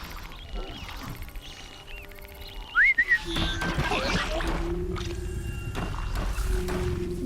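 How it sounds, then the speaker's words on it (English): A player character in Horizon Zero Dawn gives a brief rising whistle to lure an enemy, heard over steady outdoor game ambience with soft wildlife calls and a low rumbling bed. "Putting our whistle to use."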